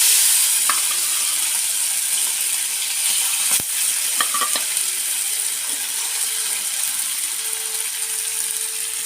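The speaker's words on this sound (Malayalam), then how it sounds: "നമുക്ക് മത്തി ഒന്ന് വറുത്ത് കോരി എടുക്കാവേ." Sardines sizzle steadily in a hot pan as they fry, a continuous bright hiss broken by a few sharp clicks and taps, with no voices.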